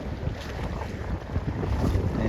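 Steady wind rushes across the microphone with a soft wash of water beneath, aboard a moving C420 sailboat.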